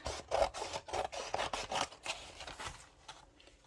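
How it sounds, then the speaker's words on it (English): Scissors or a blade trimming the cover of a junk journal, several close, quick rasping cuts in a row that taper off into quiet. "I'm going to trim this down a little bit too."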